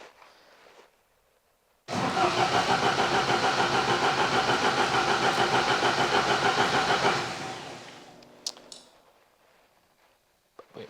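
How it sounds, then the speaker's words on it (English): A Cosworth car engine cranks over steadily for about five seconds on a start attempt, a loud rhythmic churning starter beat that fails to catch, then winds down, followed by a few faint clicks. "It definitely turns over."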